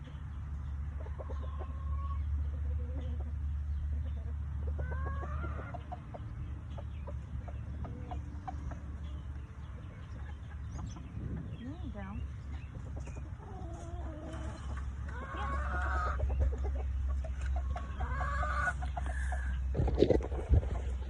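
Hens cluck and murmur on and off over a low steady hum, with a few sharper squawks near the end.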